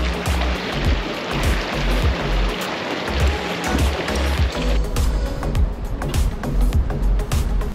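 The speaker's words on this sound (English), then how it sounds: "With these water crossings, we're putting it into four low and just crawling all the way through." A 4WD towing a caravan crawls in four-low through a water crossing on the Gibb River Road, Australia, with rushing, sloshing water over a low engine rumble, loud and close throughout.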